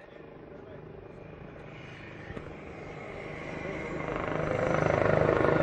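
An LUH helicopter spirals up at a defence expo display, its rotor and engine drone growing steadily louder and closer, while a commentator talks over it.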